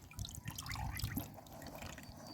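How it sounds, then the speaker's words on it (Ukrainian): Water poured onto tomato plants in a garden, a steady close trickle and dribble of liquid splashing for a couple of seconds with no talking. "Тепер я саменька дополиваю"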